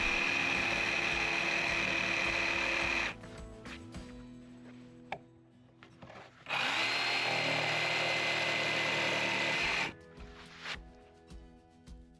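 A circular saw and then a jigsaw cut a wooden stair stringer for log cabin front steps: two long, loud bursts of power-tool cutting, each several seconds, separated by a quieter pause with faint handling clatter and no talk.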